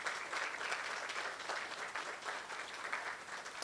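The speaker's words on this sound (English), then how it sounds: "I want you to clap for this girl." Steady applause from an audience for the only girl on a university essay-writing competition team at a climate change summit, a dense, even clapping that holds at a moderate level for several seconds with no talk over it.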